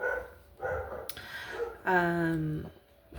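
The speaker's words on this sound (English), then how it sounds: "Excuse the noise in the background." A neighbor's dog barks in the background, a few short barks and a longer whining, yelping call, moderately distant and faint against a quiet room.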